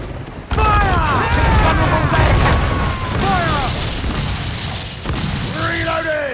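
Heavy ship cannons boom during a naval battle in Assassin's Creed 4 Black Flag, loud repeated blasts mixed with creaking timber and crew shouts, a dense roaring battle din throughout with a fresh burst near the end.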